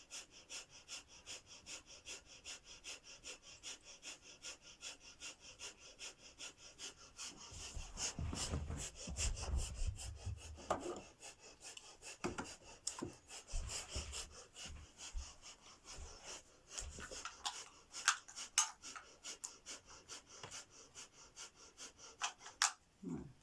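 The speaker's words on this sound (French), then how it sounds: "Et sur l'expire, vous démarrez la respiration du feu." Breath of fire yoga breathing: quick, forceful rhythmic exhalations through the nose, puffing in rapid bursts, louder and denser in a middle stretch, close and breathy with no talking.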